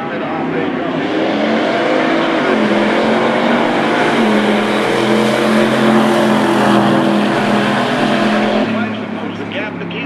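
A 1962 Plymouth Belvedere drag races a Chevy pickup truck at Irwindale, with loud, sustained engine roars climbing and shifting pitch through gear changes as an announcer talks over the noise.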